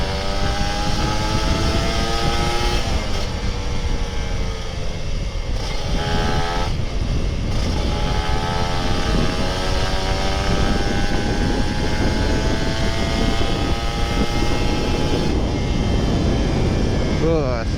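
Kawasaki Ninja RR 150 two-stroke motorcycle with an open exhaust, its engine revving hard and accelerating through the gears, with rising and falling pitch sweeps and steady loud drone throughout, heard up close from the rider's position.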